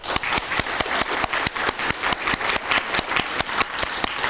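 Audience at a finance and investment forum claps in a fast, fairly even rhythm, sharp distinct hand claps continuing steadily for several seconds with no talking over them.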